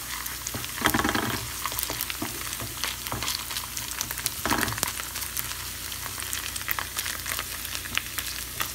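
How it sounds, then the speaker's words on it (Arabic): Tomato paste and pepper paste frying in hot oil for a Turkish bulgur salad, a steady close sizzle with occasional louder crackling bursts as it is stirred, no voices. "ربع ملعقة معجون طماطه ومعجون الفلفل، شويه من يتقلى ينطي طعم"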